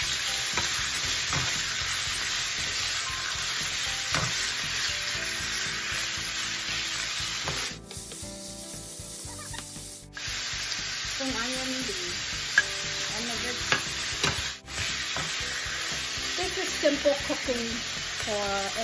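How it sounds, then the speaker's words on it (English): Marinated beef being stir fried in a pan, a loud continuous sizzle with tossing and scraping, briefly dropping out near the middle. "Stir fry the meat till it's"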